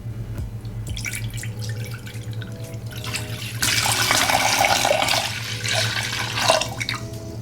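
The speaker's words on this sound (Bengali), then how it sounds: "দিয়ে দিচ্ছি আধা লিটার দুধ" Half a litre of milk pours into a cooking pot in a kitchen, a steady close liquid splash that thickens and grows louder midway.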